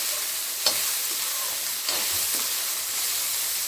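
Potatoes and soybeans stir-frying in a kadai give a steady hiss and sizzle, broken by a couple of sharp scrapes from stirring.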